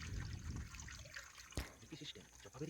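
Soaked biuli (urad) lentils are swished by hand in a bucket of water, giving a steady close slosh and splash with some trickling and a brief sharp splash midway.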